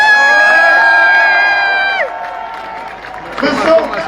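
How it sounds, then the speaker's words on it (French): Crowd cheering and whooping at a Cameroonian political movement gathering in Paris, with a sustained musical tone at the start that breaks off, then scattered shouts and clapping swelling near the end. "je vais demander d'applaudir très fort"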